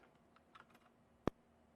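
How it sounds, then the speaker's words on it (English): Typing on a computer keyboard while setting up a gaming PC, with a few soft, scattered key presses and then one sharp, louder key strike, all close and faint with no talk. "I'm doing everything with a keyboard right now."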